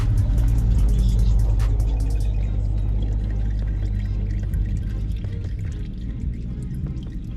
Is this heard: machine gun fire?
no